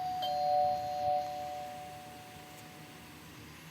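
A doorbell in the Roblox Brookhaven game rings once, a clear two-tone electronic chime that rises near the start and then fades out over a few seconds against a quiet background.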